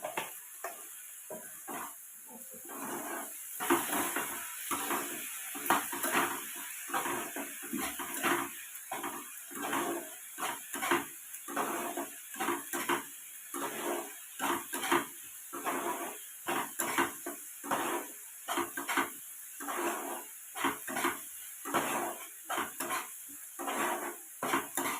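Ground spices fry in a pan with a little water for tangra fish curry, a steady sizzle and hiss broken by rhythmic stirring scrapes of a spoon, fairly quiet and close.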